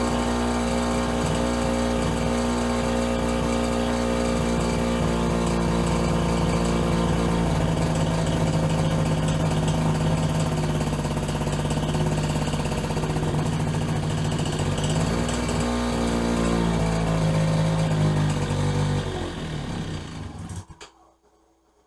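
A Polaris Predator 50 ATV engine running on choke, a loud steady small-engine drone with a slightly uneven pitch that holds for about twenty seconds and then cuts out abruptly.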